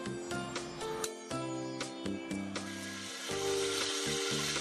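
Whole garam masala spices, cinnamon, black cardamom, cloves and black pepper, frying in hot oil, a close sizzle with clinks and stirring knocks and a background musical tone.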